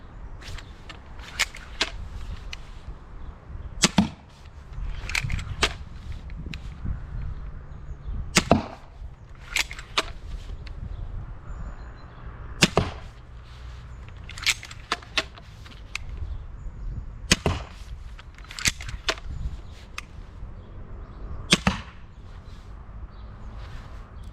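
Crossbow bolts smack into zombie targets at 10 to 20 yards, a series of sharp, crisp snaps and thuds spaced irregularly over quiet background.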